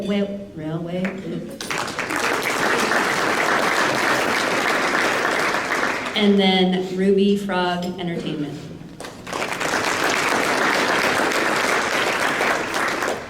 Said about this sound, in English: And then the next couple still deserve a round of applause